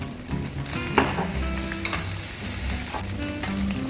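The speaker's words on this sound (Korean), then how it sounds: "굴소스 1큰술 더 넣고 볶아줬어요" Pineapple fried rice with oyster sauce stir-fries in a hot pan: a constant crackling sizzle with repeated scrapes and knocks of the spatula, close and fairly loud.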